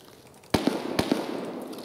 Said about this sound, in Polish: Wow, coś tu strzela nie blisko.